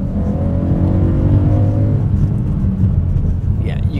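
A BMW E91 M3 GTS Touring with a naturally aspirated 550 hp 4.6-litre S65 V8 drones loudly from inside the cabin, its tone rising and then settling under someone talking.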